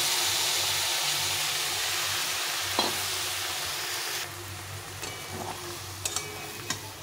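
Vegetables fry in a pan with a steady hissing sizzle; partway through, watery mustard and poppy seed paste goes in and the sizzle softens, followed by a few light clinks of utensils.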